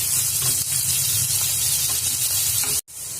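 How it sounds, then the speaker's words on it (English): Chopped onions sauté in a pan for spinach dal, giving a loud, close, continuous sizzle with soft stirring scrapes, cutting off abruptly near the end. "And we'll saute the onions until they turn translucent."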